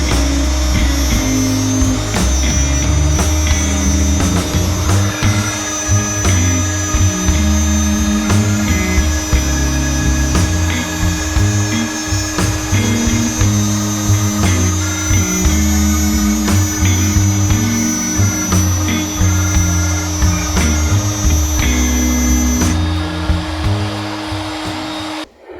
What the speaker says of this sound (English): With the master template pushed firmly against the guide bushing, a slot was made from hole to hole.